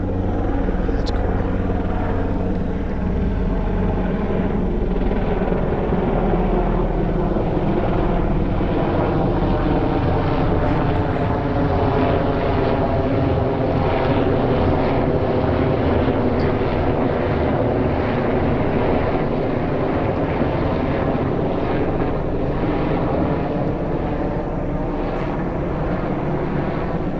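Helicopters fly overhead near a tennis court, their loud continuous rotor thump and engine rumble filling the whole stretch steadily and close, with no talk.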